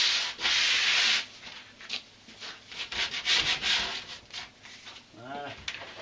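Sanding by hand on wood, loud close rasping strokes in an uneven rhythm, with a long first stroke followed by shorter rubs and a brief voice near the end.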